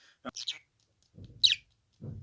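A pet budgerigar gives a few short, bright chirps, close and fairly soft, separated by gaps and low murmuring sounds.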